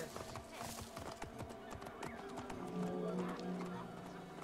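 Horse hooves clip-clop steadily in Assassin's Creed Origins, set in ancient Alexandria, and a whinny rises partway through, all within a busy, continuous game soundscape.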